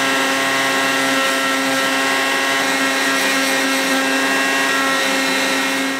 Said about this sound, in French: je vais faire le ponçage de toutes les prises.